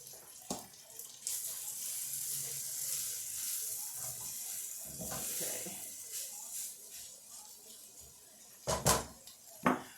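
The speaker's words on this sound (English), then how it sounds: "I'm going to put a big tablespoon of garlic in with my hamburger as it warms up" Hamburger meat and a big spoonful of garlic sizzle steadily in a pan, a continuous close hiss with a few brief clatters and louder bursts near the end.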